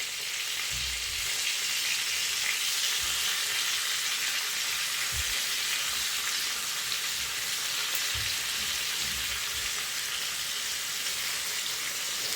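Stuffed brinjals with pickle spices sizzle steadily in a pan, a close, even frying hiss broken by a few soft low knocks as the pieces are turned.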